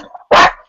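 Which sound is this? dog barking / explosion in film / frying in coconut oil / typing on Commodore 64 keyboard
dog barking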